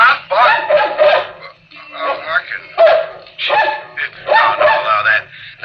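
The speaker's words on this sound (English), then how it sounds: "Stop barking. Stop barking. Stop barking." A dog barks repeatedly in short, close bursts, trading off with a person speaking firmly over and between the barks.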